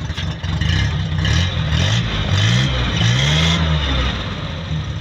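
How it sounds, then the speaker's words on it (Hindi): Suzuki Bolan Carry 2008 with an HHO kit fitted, engine running with its exhaust note close by: a steady low rumble with small rising and falling pitch swings, continuous and fairly loud throughout. "अगर हम एग्जॉस्ट की बात करें तो इसका एग्जॉस्ट ये रहा"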